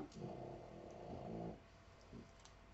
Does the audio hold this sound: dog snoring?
yes